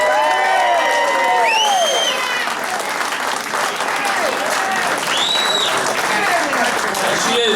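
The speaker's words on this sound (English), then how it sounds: "Let's get a nice round of applause" Applause and cheering from an awards ceremony crowd in Philadelphia, a steady dense wash of clapping lasting throughout with whoops and shouted voices rising above it.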